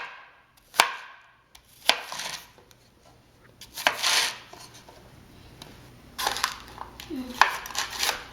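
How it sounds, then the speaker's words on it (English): A knife chopping churros into little pieces on a board, sharp close chops spaced irregularly with soft crunching between cuts, while someone talks quietly. "I'll go through them and just chop them into little pieces"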